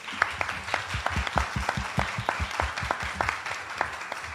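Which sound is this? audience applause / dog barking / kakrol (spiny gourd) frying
audience applause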